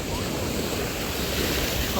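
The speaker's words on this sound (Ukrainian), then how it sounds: "яка хвиля, подивіться" Sea waves break on the shore of Tenerife in a dense, continuous roar of surf, loud and close, with heavy wind buffeting the microphone throughout.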